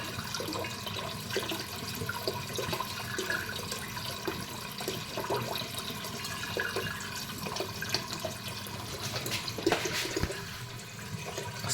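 Eucalyptus hydrosol pours and splashes steadily from a still, a continuous rushing stream with occasional louder spurts, close by and with no one speaking.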